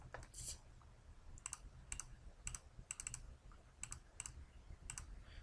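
Light keyboard typing at a POS checkout terminal, entering a stock-loss description: quiet, irregular clusters of key clicks with short pauses, close by over a faint low hum.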